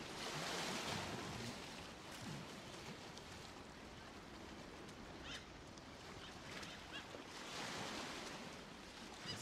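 An ape swims through water in the video game Ancestors: The Humankind Odyssey, with soft, continuous splashing and surf-like washing that swells and fades. The sound is quiet and has no talk over it.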